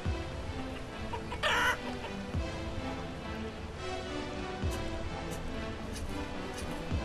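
Farmyard chickens in the village-building game Banished cluck in short, repeated bursts at moderate distance over a low ambient bed, with no talking.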